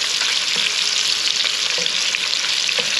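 Sausage frying in a pan for southern fried cabbage, a loud, dense, continuous sizzle close by with faint pops and no talking.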